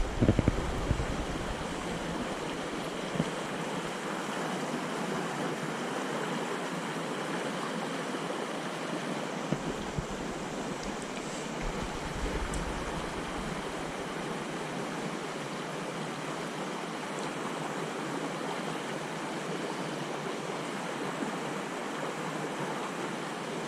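Small mountain stream in the Jemez Mountains, water rushing and burbling steadily nearby for a long stretch, a broad constant wash with occasional faint knocks and no talking.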